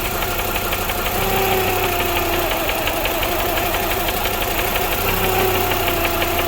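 A 2008 Hummer H3 engine idles with a steady, loud mechanical knock ticking through a droning rumble, the tone shifting slightly partway through.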